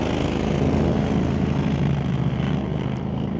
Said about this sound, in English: Austin Christopher pilots that thing down the track to the tune of a 6:45, 218 miles an hour